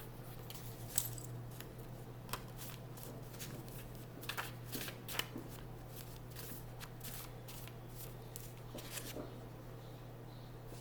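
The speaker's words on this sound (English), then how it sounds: "Let me pull a card from my personal cards that I created" Personal, self-made tarot cards are shuffled and handled with soft, irregular riffling and flicking taps over a steady low hum.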